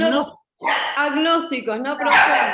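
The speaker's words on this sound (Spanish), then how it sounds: "perdón el ladrido de mi perro" A pet dog barks nearby during an online university law lecture, sharp yips breaking through a woman's continuous speech, loud and close in an indoor home setting.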